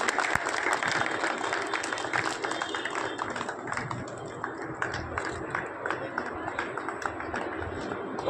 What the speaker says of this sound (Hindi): तालियों साथ, तालियों साथ।